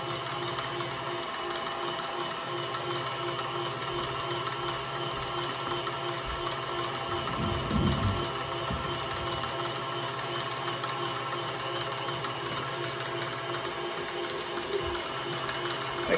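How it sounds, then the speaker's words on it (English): An electric mixer whirs steadily while beating divinity candy, a constant close mechanical hum and whine lasting throughout, with a brief low rumble partway through and no talking. "Down here so you can see the mixer."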